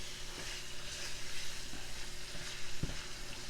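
Onions, peppers and ground meat fry in a single pot for cheesy taco spaghetti, a steady close sizzle with occasional soft knocks of a stirring utensil.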